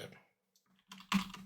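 Computer keyboard typing, a few quick faint clicks that come after a short stretch of quiet, with talk at the start.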